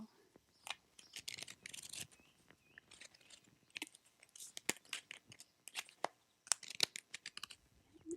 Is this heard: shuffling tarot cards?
yes